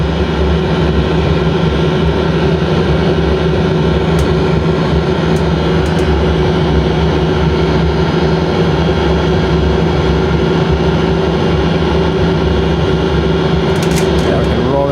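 A trike aircraft engine runs at full throttle in a flight simulator as a loud, steady droning roar that holds unchanged throughout, with faint clicks near the end.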